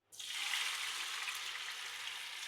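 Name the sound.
gravy poured into hot oil, sizzling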